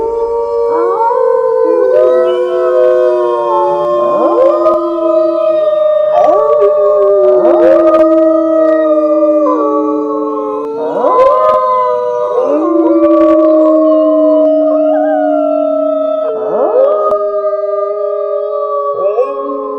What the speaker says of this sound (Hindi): जंगल से दूर सियारों का हुआ हुआ करके चिल्लाने की आवाजें आनी शुरू हो गई